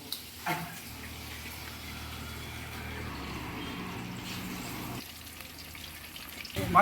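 Fish frying in oil at a roadside shop near Tirupur: a continuous low sizzle and bubbling that runs steadily, then changes abruptly partway through, with a few knocks at the start and end.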